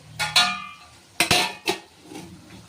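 A spoon knocking and scraping against a metal pot while gongura boti and chicken curry is stirred, giving a few sharp clinks with quieter scraping between them.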